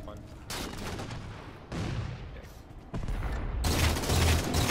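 Gunfire in the Halo 4 multiplayer match on the Pitfall map, several loud bursts and booming shots layered over busy game noise, including sniper rifle fire, with a dense, continuous battle din.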